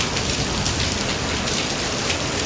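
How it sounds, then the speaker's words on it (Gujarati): Heavy rain pours at night during a lightning storm, a steady, dense hiss of drops hitting surfaces close by. No thunder stands out and no one speaks. "જોવો છો તમે આકાશમાં વીજળી થઈ છે અને વરસાદ જોવો"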